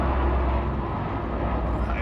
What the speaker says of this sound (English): That is a loud plane.